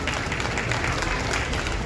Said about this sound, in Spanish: Brindémosle un fuerte aplauso a Don Tino.